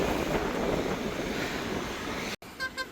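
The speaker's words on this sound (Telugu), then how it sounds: "చల్ల గాలి వస్తుంది" Cool wind blows steadily beside Hussain Sagar lake, a loud broadband rush buffeting the microphone, then cuts off sharply near the end, leaving quieter ambience with a few faint tones.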